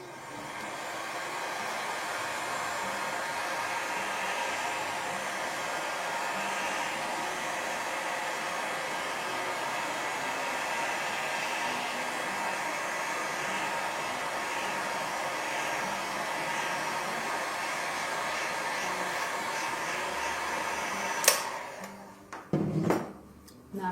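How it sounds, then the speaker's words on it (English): A heat gun blows steadily across the surface of a wax candle mold, a continuous airy roar lasting about twenty seconds before it switches off, followed by a few faint clicks and handling noises. "I'm just going to grab my heat gun here, and I'm just going to give the surface just a little heat"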